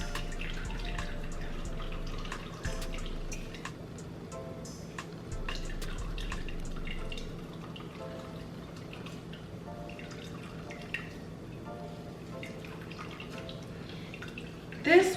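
Celery juice drips steadily from pulp squeezed by hand in a clean towel, a faint patter of close droplets under a voice talking throughout.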